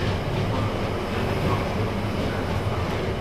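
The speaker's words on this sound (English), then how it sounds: "We're now on the train back." Steady rumbling interior noise of a moving train on the way back into London, a dense even roar with no talk over it.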